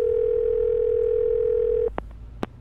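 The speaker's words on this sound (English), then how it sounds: "Call Kelly." A phone call being placed by voice command: a steady dial tone hums loud and alone for nearly two seconds, then cuts off, followed by two short dialing beeps.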